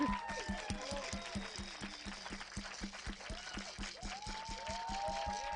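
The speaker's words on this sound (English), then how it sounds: "A big applause." Rhythmic clapping from a small group, steady and moderately loud, with a few cheers and voices mixed in.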